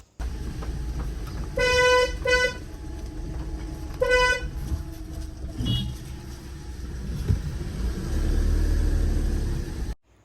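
A vehicle horn honks on an Indian road: a quick double toot, then another short blast about two seconds later, loud and close over a steady rumble of engine and traffic noise.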